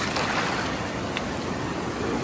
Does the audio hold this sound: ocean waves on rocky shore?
yes